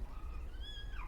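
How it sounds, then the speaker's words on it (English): A small baby kitten gives one high, rising-then-falling meow, close and clear over a low background hum. "I don't know if you can hear that sweet little meow. It's a little baby kitten."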